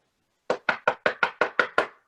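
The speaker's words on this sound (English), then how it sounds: "Puss knocked at the door." Eight firm knocks on a castle door come in an even, steady series, each a close, hollow thump after a moment of silence.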